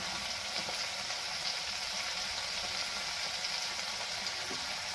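Turmeric and salt are stirred into a frying fish curry made with mango and shol fish, giving a steady, close sizzle of hot oil with faint scraping from the stirring.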